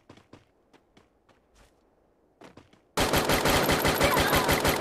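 Gunfire erupts in the video game Free Fire, a loud, dense burst of rapid automatic shots that begins abruptly after quieter scattered footstep-like thuds.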